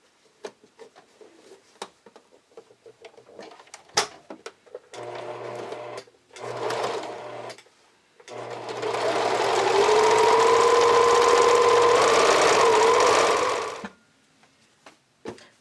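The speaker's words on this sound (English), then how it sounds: "We're just going to sew up our side seam really quick." A sewing machine stitches the side seam of kids' underwear in short bursts that build into one long, steady run of rapid mechanical whirring with a low motor hum, separated by quiet pauses and handling clicks.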